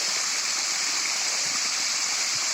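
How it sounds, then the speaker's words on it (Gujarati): A child plays with running water on an organic banana farm, producing a steady, loud rushing and splashing wash that fills the short stretch without pause. "અહીંયા રાહિલ્યો રમી રહ્યો છે પાણી સાથે."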